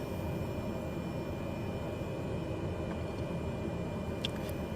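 A propeller aircraft engine running steadily at high power before takeoff, a continuous loud droning roar with no breaks, heard from inside the cockpit.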